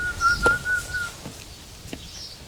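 A person whistles indoors during a domestic scene, with a steady high tone held for about a second and then softer, fainter whistle traces. The room around it is otherwise quiet.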